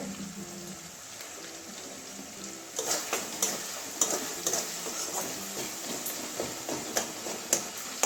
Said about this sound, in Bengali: টমেটো পেঁয়াজ রসুন এগুলো ভালো করে ভেজে নেব।